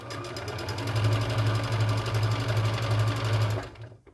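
Close, steady whirring of a sewing machine stitching around a fabric scrunchie, a rapid even needle rhythm running for about three and a half seconds before stopping abruptly.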